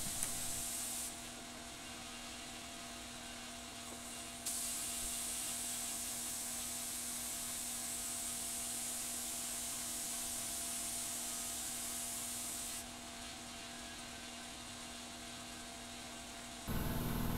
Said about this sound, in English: some poor bugger trying to spray paint his whole boat.